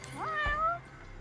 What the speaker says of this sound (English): Can we pet the cat?